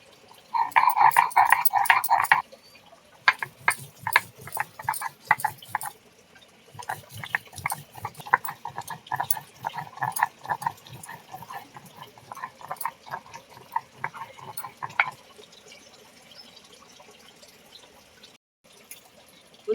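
Chilli being ground by hand on a grinding stone, a dense run of rhythmic wet scraping and knocking strokes, loud and close, pausing briefly and then tapering off into quieter scrapes.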